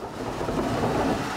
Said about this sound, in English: The menacing thunder.